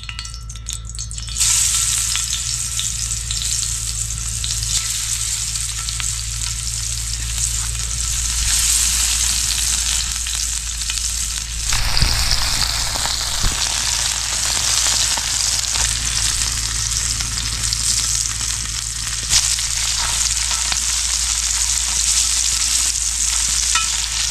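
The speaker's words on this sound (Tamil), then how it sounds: "எண்ணெய் நல்லா காஞ்சிருச்சு. மீனை போட்டுக்குவோம் மக்களே." Fish frying in hot oil outdoors, a steady loud sizzle and crackle running throughout with stirring, no voices.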